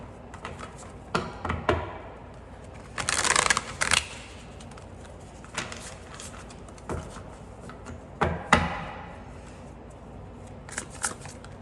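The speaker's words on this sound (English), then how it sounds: "Let's shuffle these cards." Tarot cards are shuffled in several quick riffling bursts separated by pauses, with soft taps and handling sounds between.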